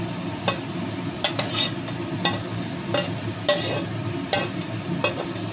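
Salt, onions and small khaira fish go into a bubbling pan of curry with onion stalks and flat beans, giving a steady simmering hiss under repeated light clinks and scrapes of a spoon stirring, with no voices.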